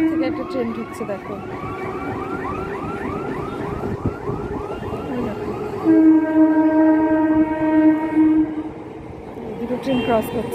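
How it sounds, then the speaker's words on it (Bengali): Two trains passing each other at a station: continuous rumble of wheels and cars under repeated wavering warning tones, then a steady horn blast, with faint voices in the background. "দুটো ট্রেন ক্রস করছে।"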